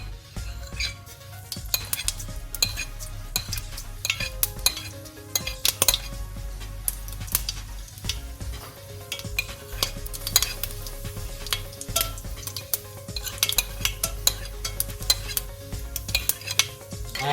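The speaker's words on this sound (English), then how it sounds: "I gradually add my ingredients." Onions frying in hot oil for lamb curry, a steady close sizzle with frequent sharp clinks and scrapes of a utensil stirring against the pot throughout, no voices.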